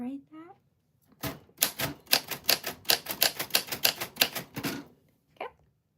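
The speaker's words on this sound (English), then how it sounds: "This is a typewriter from 1949" A 1949 typewriter is typed in a rapid run of sharp, close key strikes with a short pause, then a single final clack; brief voice sounds come before the typing.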